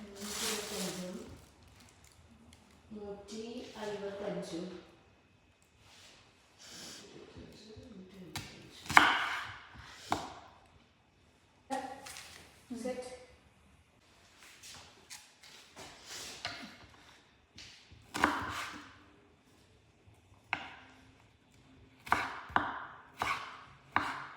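Onions being chopped on a cutting board during home cooking in Uzbekistan, heard as a run of crisp, close knife taps in uneven bursts, with a voice briefly heard near the start.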